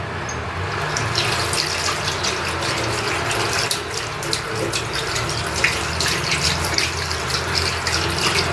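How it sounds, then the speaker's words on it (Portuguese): Running water splashes steadily and close by as paint brushes are rinsed under a stream, a continuous gushing hiss with small spatters and no talk. "Isso que eu falei que eu vou jogando água pra não manchar."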